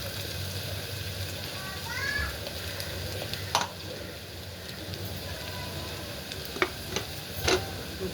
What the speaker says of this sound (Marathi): कांदा आपला थोडासा तळत आलेला आहे अद्रक लसूण पेस्ट करून घेतले आता हे टाकून घेताना